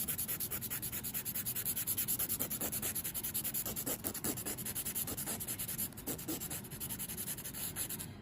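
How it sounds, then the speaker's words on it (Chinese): Rapid, steady back-and-forth scratching of a nail file on a false nail tip, continuous and close, with no voices. "接下来我们再把另外一边给它磨掉，也是磨这个尖尖的位置"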